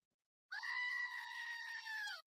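A goat lets out one long, loud, wavering bleat, close and alone, lasting nearly two seconds after a brief silence.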